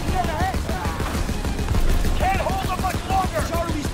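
A mounted gun in Call of Duty: WW2 hammers out rapid, evenly spaced bursts close up, a continuous rattling stream of shots with voices calling out over it.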